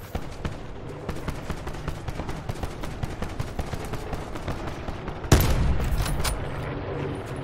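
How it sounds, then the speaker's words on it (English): Rapid gunfire in a multiplayer shooter video game, a dense run of sharp shots and bursts from the southwest, with a louder, heavier burst of fire near the end. "There's gunshots southwest."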